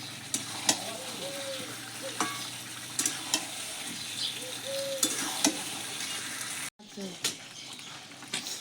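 Potatoes sauté in a pan with steady stirring, a moderate sizzle under repeated spatula scrapes and knocks, with a brief drop in sound near the end and a faint voice in the background.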